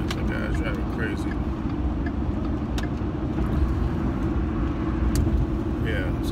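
Cars rushing past in fast traffic, heard from inside a moving vehicle as a continuous low road rumble with occasional passing whooshes, while a person talks.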